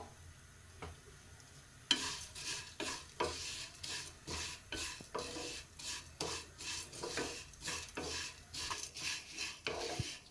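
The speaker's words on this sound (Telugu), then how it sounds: "మనమైతే సేమ్గా వేయించుకోవాలన్నమాట నేతిలో" Vermicelli frying in ghee, a soft sizzle broken by repeated rhythmic scraping strokes of a spoon against the pan, close and steady after a quiet start, no voices.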